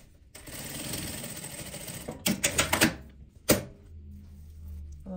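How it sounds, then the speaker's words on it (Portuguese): A sewing machine topstitching a seam on fabric scraps, a steady close whirring run in the first seconds, then a few short clattering bursts and a sharp knock before a low hum. "Vou rebater a minha costura."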